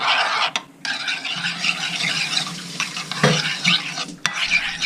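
A garlic salt seasoning mix is stirred in a bowl, with close scraping and clinking of a utensil against the bowl in uneven strokes and brief pauses, and no speech.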